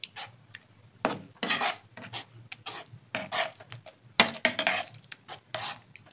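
A lumpy flour mixture is worked slowly around a pan, giving bursts of close scraping and clattering against the metal, separated by short pauses.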